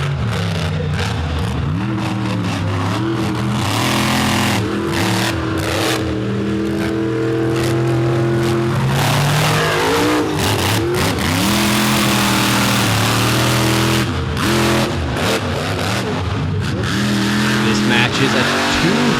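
Monster trucks race at an arena event in Charlotte, North Carolina, their loud engines roaring and revving without a break, with tire noise and an announcer talking throughout.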